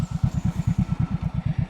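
A motorcycle engine idles up close with a steady, rapid chugging pulse, running alone without any talk.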